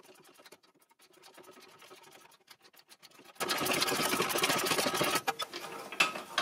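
A tool works on the nut of a shock absorber on a Mercedes W203, making fast, dense mechanical rattling, quieter at first and then much louder and sustained for several seconds.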